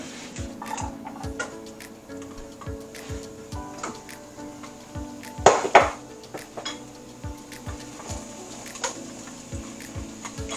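Hashbrown potatoes sauteing in a little oil in a pan, with a steady run of light ticking clicks from utensils and one louder clatter midway, faint sizzle underneath, close and without speech.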